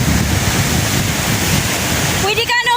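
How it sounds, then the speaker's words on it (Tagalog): Strong ocean surf breaking on a beach, a steady roaring wash heavy with wind buffeting the microphone, with a brief tonal whistle-like sound near the end. "Malalakas ang alon. Yung alon niya malalaki."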